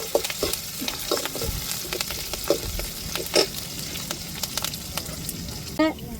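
Tempering spices sizzling in a pan ahead of a carrot, bean and broad bean stir-fry, a crackling fry with scattered spatula taps and stirs, and a brief voice near the end.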